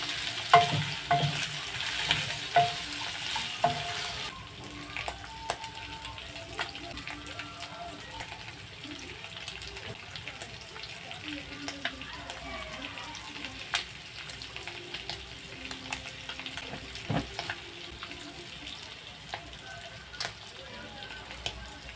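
Onions with ginger garlic paste fry for mutton fry, a close, steady sizzle with clinking stirring taps. Someone talks over the cooking throughout.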